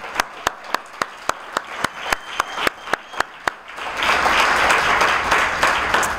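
At a Rotary Club scholarship luncheon, single claps ring out in a slow, even rhythm, then a room full of people breaks into sustained applause.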